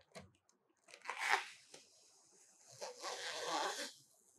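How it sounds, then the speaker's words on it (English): Protective stickers are peeled slowly off a magnetic anti-glare laptop screen, giving two quiet, close tearing rips with a soft crinkle between them. "you can slowly peel off the stickers."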